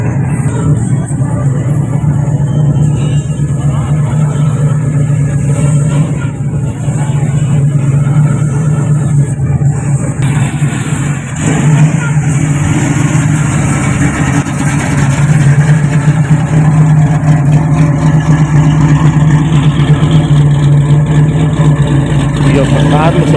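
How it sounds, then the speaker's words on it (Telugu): Car engines run at an American car exhibition, a steady low mechanical drone that continues throughout with a faint murmur of voices in the background. "ఇదండి కార్ల మేళా"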